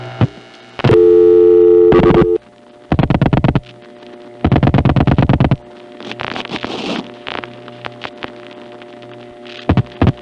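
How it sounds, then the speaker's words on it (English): Multi-frequency telephone signaling tones play as extra digits are dialed on a 1975 Manhattan call routed through the West 73rd Street panel office: several loud, steady tone bursts of a second or so, separated by gaps, over a faint line hum and clicks. "Let's just dial extra digits on a 360 call."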